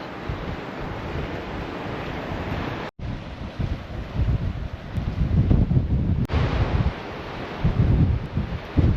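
Large waves surging and breaking on the shore at Kimmeridge Bay, a loud continuous roar mixed with heavy wind buffeting the microphone, with a brief dropout near the start and rising surges toward the end.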